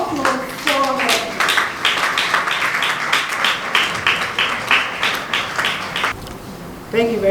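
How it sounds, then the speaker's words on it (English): A crowd applauds steadily for several seconds, clapping loud and close, then fades out as a voice begins speaking. "Please let's have a warm applause for her."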